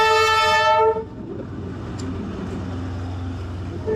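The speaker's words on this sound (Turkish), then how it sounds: "İşte beklediğimiz tren geldi." A loud train horn blares for about a second in Vietnam, then a steady rumble of rail cars rolls past at close range, with a faint squeal near the end.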